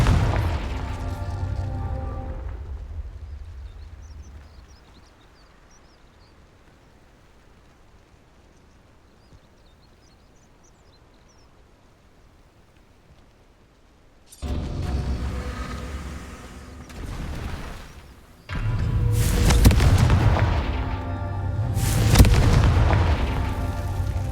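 Fiery Confringo blasts and booms from the Hogwarts Legacy video game, a burst at the start, then a quiet stretch before repeated loud, rumbling explosions near the end.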